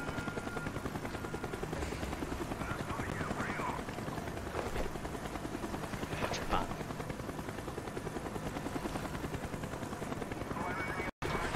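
Helicopter in the Call of Duty: Black Ops shooter game, a steady rapid rotor chop throbbing loudly throughout with game voices and effects layered over it.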